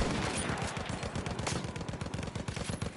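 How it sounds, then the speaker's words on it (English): Rapid sustained machine gun fire from the video game Battlefield 1, a dense steady stream of fast shots with no gaps, loud and close throughout. "I'm looking at a machine gun."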